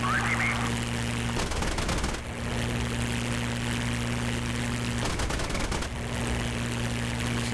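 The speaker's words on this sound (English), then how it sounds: "Still trying to hit him with cannons, and I'm still missing." Spitfire cannon and machine-gun fire in the Digital Combat Simulator combat flight game, two rattling bursts of rapid shots over a loud steady engine drone with no talking.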